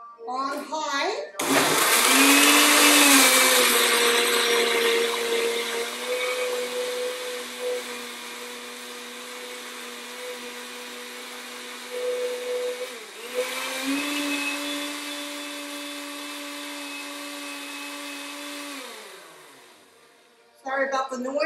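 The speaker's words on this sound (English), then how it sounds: "we're going to blend this until it's all blended together on high." Blender running on high, blending a vegan cheese sauce with sweet potatoes, a loud close whirring drone that surges, settles into a steady pitch for about twenty seconds, then stops.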